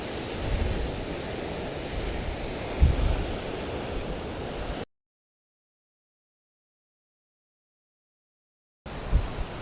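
Rough sea surf on the North Norfolk coast path near Overstrand, a steady broadband roar of breaking waves with wind buffeting the microphone, cutting out to silence midway before resuming briefly.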